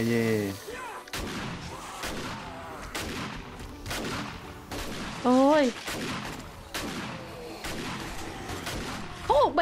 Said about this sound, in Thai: ออกแบบให้ลูกซองเสียงมันดังก้องมากเลย ก็แน่นอนก็มันคือลูกซอง